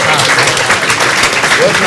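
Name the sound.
round of applause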